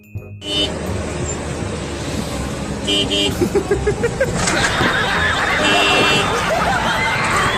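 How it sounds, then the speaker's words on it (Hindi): Amid busy street traffic and voices, a car horn sounds, followed by a cluster of short toots and ongoing road noise. "पीछे कार वाला हॉर्न मारता है"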